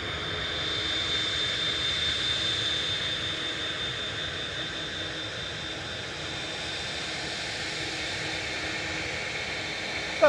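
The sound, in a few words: Aer Lingus Airbus A330-300 arriving from Orlando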